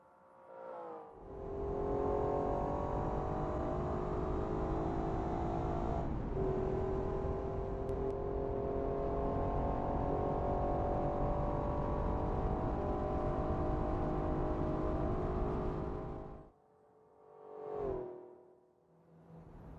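A replica of a 1963 Ferrari 330 America with a V12 engine, driven in BeamNG.Drive, holds a steady loud engine drone for about fifteen seconds, then cuts off abruptly, followed by a brief rev that swells and fades.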